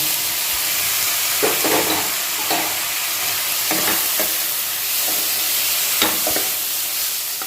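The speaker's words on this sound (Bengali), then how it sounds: "এবারে আমি যেটা করবো এর মধ্যে চিকেনের এই যে টুকরোগুলোকে এগুলোকে দিয়ে দেবো" Chicken pieces stir-frying with browned vegetables for egg chicken chow mein, a steady close sizzle broken by repeated scraping and tossing strokes in the pan, with no talk.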